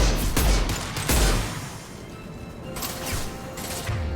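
A heavy weapon fires in the sci-fi shooter Mass Effect 2 with loud, booming blasts at close range. Two strong bursts land near the start, then a rumbling lull, then further crashing shots.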